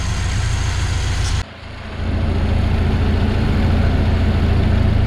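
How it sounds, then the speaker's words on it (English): A red Sana GL car engine idles with a loud, steady low rumble that dips briefly for a moment before settling back to an even idle. "The engine's idling lovely, all good there, no rubbish out the back."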